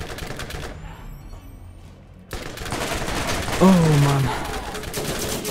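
Rapid machine gun fire in the video game Borderlands, loud crackling bursts that cut off for a moment and then resume amid game noise, with a voice talking over it.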